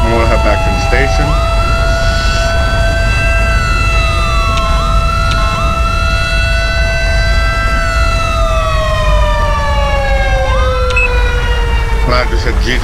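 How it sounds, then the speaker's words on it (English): Police car siren in GTA V with the LSPDFR mod, a loud wailing and yelping electronic siren cycling continuously and near, with someone talking over it. "I just hit G to shut the siren off on my car anyway."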